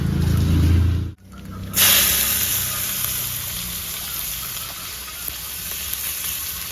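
Dry red chillies and black cumin hit hot oil in a pan, a loud, steady sizzle and hiss that bursts in after a brief pause and then settles into continuous frying.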